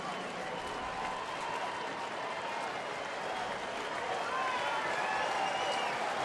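A large baseball stadium crowd of over 41,000 at a Tigers game at Detroit roars and applauds in a dense, steady wash of clapping and cheering, rising slightly toward the end.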